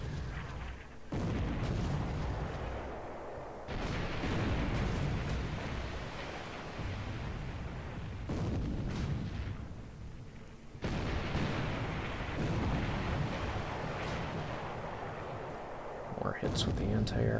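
Warship main battery guns fire in the War in the Pacific naval strategy game, making a loud, sustained roar of booming, rumbling blasts broken by a few abrupt cuts.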